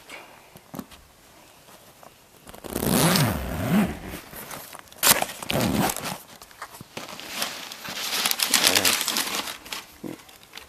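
The zipper of a Louis Vuitton Keepall 55 monogram canvas travel bag is pulled open in a few long rasping runs, close up, with some handling and rustling between the pulls.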